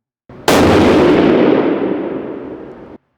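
A single sharp shot from a Weatherby 307 rifle at an outdoor range, loud and close, its blast trailing off in a long fading rumble over a couple of seconds.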